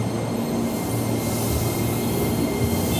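A KRL commuter train with large carriages moves through Juanda Station in Jakarta, giving a steady, dense rumble with faint wheel squeal throughout, close and continuous, with no voices.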